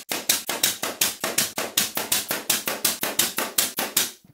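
Brads are driven into a glued wooden box beam on a homemade band saw frame: a fast, steady run of about twenty sharp, close wooden impacts, evenly spaced and loud, with no talking.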